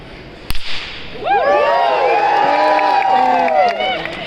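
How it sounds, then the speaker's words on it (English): A single medium-strength whip crack snaps sharply during a live show, followed by a rising crowd reaction of cheering and chatter that rings out around the venue. "Medium whip crack, everyone."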